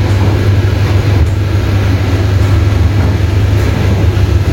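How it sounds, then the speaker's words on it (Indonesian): A generator running in the power and dining car of a new Indonesian economy-class train, a loud steady low drone with constant rumble and no talk over it. "dengar ya bunyi genset"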